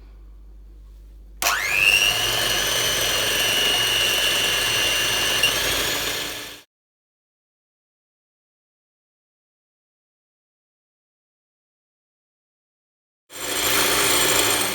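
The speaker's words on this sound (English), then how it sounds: "to whisk my egg whites" Electric hand whisk beating egg whites in a bowl for a lemon meringue pie, a loud steady motor whine that runs for about five seconds, stops into silence, then starts again, with no talking.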